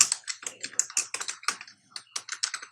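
Rapid, crisp keystrokes on a computer keyboard while typing a name into Microsoft Excel 2019, a quick irregular run of close, clear clicks with one brief pause midway and no speech.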